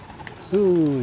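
A pigeon in a large aviary gives a single loud, close coo that swells and slides slightly downward, after a few faint scattered bird sounds.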